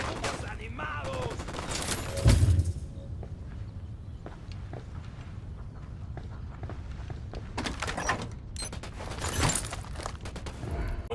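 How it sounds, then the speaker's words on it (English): Gunfire in the tactical shooter game Ghost Recon Wildlands, a loud opening volley followed by scattered shots and later bursts of rapid fire, with in-game clatter and voices mixed underneath. "Opening fire."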